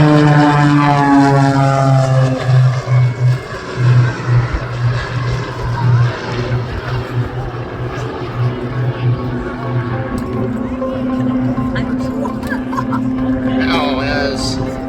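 Pitts S-2B Special aerobatic propeller biplanes fly at an air show in Atlantic Canada, their engines droning loudly with a strong pitch sweep as they pass near, then settling into a steady hum.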